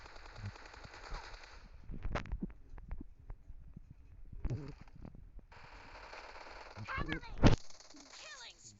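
Gunfire from the battle royale video game PUBG comes in bursts of automatic fire and sharp single shots spread across the stretch, with the player's voice speaking between them.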